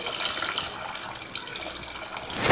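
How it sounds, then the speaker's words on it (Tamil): Water is poured into a pan of tamarind kuzhambu, a sour and spicy South Indian curry, producing a continuous close splashing, gushing rush that keeps going from start to end with no talking. "இப்போ குழம்புக்கு தேவையான தண்ணி சேர்த்துடலாம்."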